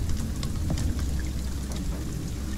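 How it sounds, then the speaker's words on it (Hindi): Steady rain falls in a Vietnamese horror video game, a dense, even hiss of drops with scattered brighter patters and no voices over it. "बारिश हो रही है."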